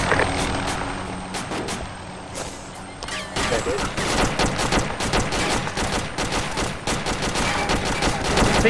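Heavy gunfire in a war video game: continuous loud bursts of automatic fire and scattered shots, close and steady throughout, with a rotor-like drone underneath.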